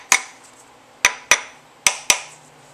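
Five sharp metallic hammer taps in an irregular rhythm, driving in a rear main seal on an LS/Vortec engine, each ringing briefly before fading, close and clear with no talking.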